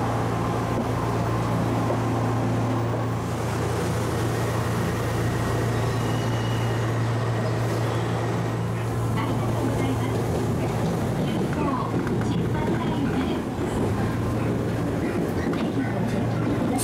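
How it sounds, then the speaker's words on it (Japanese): Steady low rumble and hum inside an Odakyu 2000-series eight-car electric express train as it pulls away from Sagami-Ōno Station, with motor drone throughout and faint voices in the background. "相模大野駅を発車しました。"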